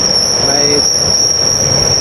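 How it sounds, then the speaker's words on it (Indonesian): Steel rails being pulled along a slab track during high-speed railway installation in Indonesia produce a loud, sustained metallic squeal with a piercing steady tone over grinding rumble, continuous throughout, close by. "Penarikan rel ini secara bersamaan,"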